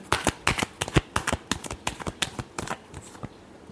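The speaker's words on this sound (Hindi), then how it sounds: "last shuffle" Tarot cards being shuffled by hand in a run of crisp, rapid riffling flicks, fairly close and steady, with no one talking over them.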